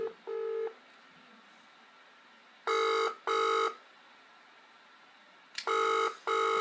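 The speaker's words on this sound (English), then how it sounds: "So let's give him a cheeky ring on the mobile device." A mobile phone's outgoing ringback tone sounds as two-pulse electronic rings repeated three times, with quiet pauses between them.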